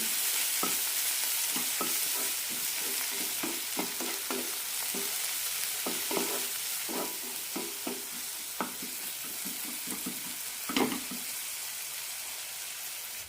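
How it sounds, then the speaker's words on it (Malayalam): Turmeric, chilli, garam masala and coriander powders are sautéed in a pan for an egg curry, giving a soft sizzle under repeated close scraping stirs that keep an uneven, steady rhythm. "നന്നായി വഴറ്റാം പൊടികളെല്ലാം നന്നായി മൂത്ത് കിട്ടണം"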